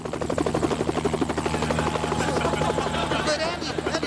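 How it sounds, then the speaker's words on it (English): Helicopter flying away in a comedy TV show, a loud rhythmic rotor chop pulsing steadily and close, with voices speaking over it. "Bunsen, it's time for me to get on my chopper and go"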